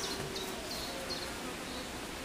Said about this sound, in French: Quelques abeilles qui vont rentrer à l'intérieur pour essayer de délivrer la reine.